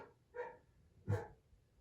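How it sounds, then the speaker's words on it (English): A dog gives two short, separate barks, the second louder, faint and somewhat distant indoors. "Nope, now the other dog's barking."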